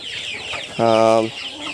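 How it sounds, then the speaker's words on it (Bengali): A big tiger-breed chicken in a poultry flock gives one loud, drawn-out squawk close by, lasting about half a second, with quieter farmyard noise before and after. "এই যে কালো মুরগিটা দেখেন কত বড় একটা মোরগ অরিজিনাল টাইগার মুরগি"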